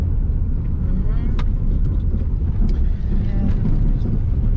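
A car driving along a country road, a steady loud rumble of engine, tyres and wind noise throughout with no pauses.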